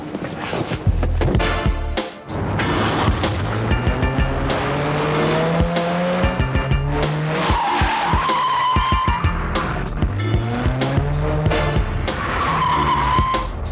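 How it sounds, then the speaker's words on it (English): Mini Cooper cars in The Italian Job chase scene skid through turns with loud, repeated tire squeals, rising and falling engine revs and car noise, close and continuous throughout. "The chase scene in The Italian Job with the Mini Coopers was so spectacular"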